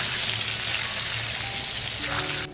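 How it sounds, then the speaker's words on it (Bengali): Pointed gourd and potato pieces fry in hot oil in a pan, giving a loud, steady sizzle throughout with no talking. "আমি এবার পটল আলুগুলোকে ভালো করে একটু ভেজে নিই"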